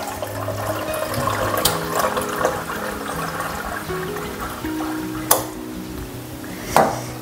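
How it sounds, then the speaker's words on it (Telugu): Hot water is poured into a cooking pot for sambar or dal, a continuous close splashing gush with a couple of sharp metallic knocks of the pot near the end. "ఇప్పుడు ఇందులోకి నేను వేడి నీళ్ళు వేసుకుంటా"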